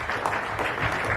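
Brief burst of clapping from guests at a 50th birthday party, a steady patter of hands throughout.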